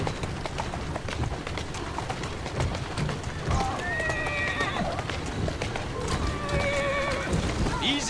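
A horse in the Assassin's Creed Syndicate video game whinnies twice over steady clip-clopping hooves, with a busy background of street and ambient noise throughout.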